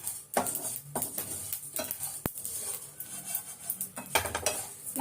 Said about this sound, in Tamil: சீரகம் பரபரன்னு பொரியுது